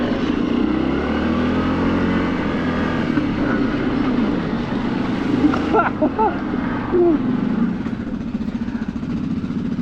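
A Yamaha Grizzly 700 ATV engine at full throttle, a loud continuous engine drone with shifting pitch as it pulls along a trail, steady throughout.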